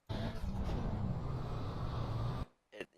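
Virtual VW rally car in an iRacing rallycross game on Atlanta's short course roars loudly at high revs through a jump, then the engine note drops off sharply and a brief burst follows as it swaps direction.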